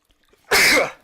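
A single sharp sneeze bursts out close by, loud and brief at about half a second, then fades into quiet room tone.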